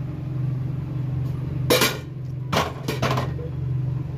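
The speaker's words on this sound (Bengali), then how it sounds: "রান্নার জন্য কড়াইটাও বসিয়ে দিলাম।" A metal kadai set onto a lit gas stove, ready for cooking hilsa with raw mustard: a few short, sharp clanks stand out over a steady low burner hum.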